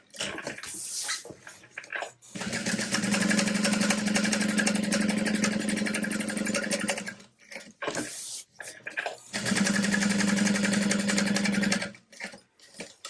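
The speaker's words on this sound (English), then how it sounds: "First, I'm gonna sew all the way around." A sewing machine stitches around a backpack in two long continuous runs of steady buzzing, close and loud, separated by short pauses with small handling clicks and no talk.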